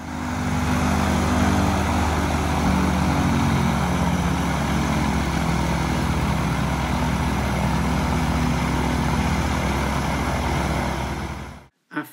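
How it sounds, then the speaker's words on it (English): A microlight aircraft engine warming up, a loud steady drone with a low propeller hum held at constant pitch for about twelve seconds before cutting off abruptly. "warms up the Microlight"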